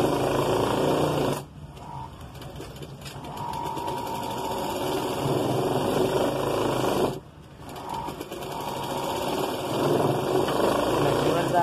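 A sewing machine stitches the seam of a long skirt for a three-year-old girl, running in steady buzzing stretches with two short pauses, close, while someone talks over it.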